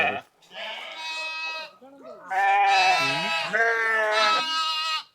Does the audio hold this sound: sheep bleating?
yes